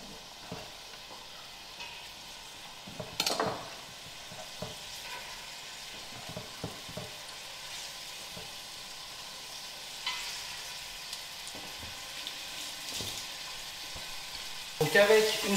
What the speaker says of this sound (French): On va faire revenir les oignons dans la casserole avec un petit peu d'huile d'olive.